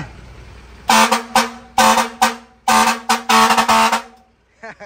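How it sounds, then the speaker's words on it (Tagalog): A loud LPG truck air horn blasts repeatedly in short and longer bursts, close and piercing, with quiet between honks. "Grabe naman yung busina na yan. Fire air horn."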